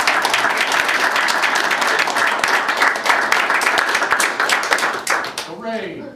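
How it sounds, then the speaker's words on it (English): Loud, sustained clapping fills a school district board meeting as a student is welcomed, a dense even patter for several seconds that fades as a voice begins speaking at the end. "please, round of applause"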